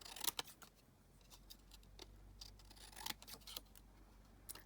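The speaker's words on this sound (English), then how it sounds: "Let's trim that down." Scissors snip paper scraps being trimmed for a journal, giving a handful of quiet, close cuts with soft rustling between them in an otherwise still room.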